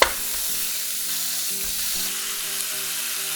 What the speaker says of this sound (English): I'm gonna add half a pound of ground beef to it.